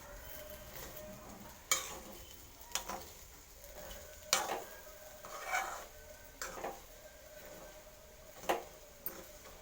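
Chilli powder being stirred into food frying in a pan for an artikaya (raw banana) curry, with scattered light scraping clinks of a spoon against the pan over a faint, steady sizzle.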